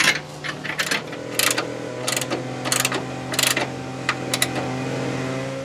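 A wrench tightens a horseshoe clamp on a brake hose during a front disc brake conversion on a 1967 car, giving a series of sharp metallic clicks and ratcheting taps in short bursts over a steady mechanical hum.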